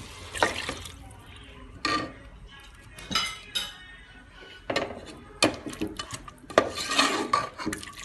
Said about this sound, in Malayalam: തൈര് ഏഡ് ചെയ്തിരുന്ന പാത്രത്തിൽ തന്നെ കുറച്ച് വെള്ളം ഏഡ് ചെയ്ത് കൊടുക്കുന്നുണ്ട്